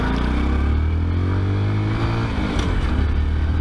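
A 2014 Honda Grom motorcycle with electronic fuel injection idles loud and close, its small single-cylinder engine giving a steady, throbbing low rumble throughout.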